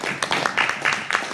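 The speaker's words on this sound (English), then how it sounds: "Give them a round of applause" An audience at a motivational talk breaks into a brief burst of applause, a dense, fairly close wash of hand claps lasting only a moment.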